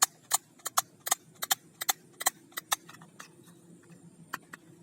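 A blue plastic toy shotgun snaps out a string of about fifteen sharp, close clicks at an uneven pace, several of them loud and some fainter, with no talking.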